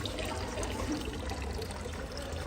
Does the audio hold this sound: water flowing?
yes